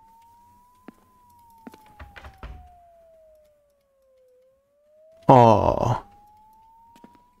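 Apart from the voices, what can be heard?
police sirens in horror video game Crimson Snow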